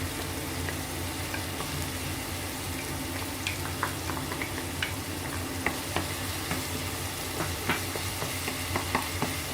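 Crushed garlic sautés with a little tomato in a pot for a courgette and egg tajine, producing a soft, even sizzle with scattered light spoon clicks and scrapes, close and moderately quiet.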